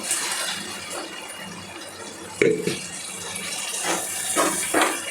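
Water poured into a tomato egg curry in a village kitchen, a soft continuous splashing with a few sharper gushes and bursts, fairly quiet.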